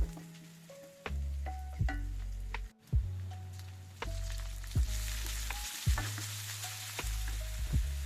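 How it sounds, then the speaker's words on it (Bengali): Whole spices (bay leaf, cardamom, cloves) and ginger garlic paste fry in oil for egg masala: a close, soft sizzle broken by regular scraping stir strokes and clicks about once a second, with no talking. "সব কিছু ভেজে নিয়ে এখন এর সঙ্গে খুবই সামান্য আদা রসুনের পেস্ট মিশিয়ে দেব"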